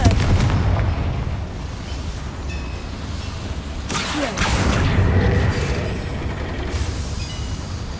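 A fiery Confringo spell explosion in the video game Hogwarts Legacy, a heavy booming blast with a rumbling roar that swells midway amid continuous loud in-game noise.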